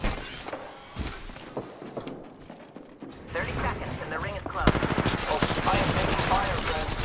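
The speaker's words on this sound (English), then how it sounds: "Oh, I am taking fire, friend." Enemy gunfire rattles in a video game battle royale, a few scattered shots giving way to a fast, sustained automatic burst near the end, with a voice talking over it.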